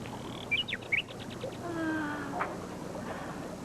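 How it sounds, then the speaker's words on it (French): Bright, quick chirping notes in short bursts open a nightingale's song in a 1988 animated tale about an emperor, followed by a softer warbling trill, fairly faint against a quiet background. "C'est le chant du rossignol."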